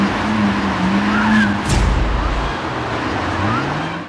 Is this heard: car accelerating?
yes